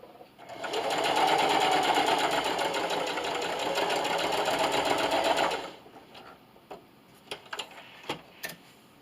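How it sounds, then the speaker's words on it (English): A sewing machine stitches a quarter-inch lanyard seam in a fast, steady whir for about five seconds, then stops, followed by a few light clicks and handling sounds up close. "I'm going to backstitch at the beginning, and also at the end."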